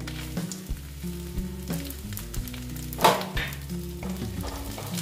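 Grated coconut sizzles in a pan while being fried for a Bengali banana flower curry (mochar ghonto). A steady, moderate sizzle runs throughout, partly masked by droning, humming construction noise from a building site next door, with a sharp knock near the middle.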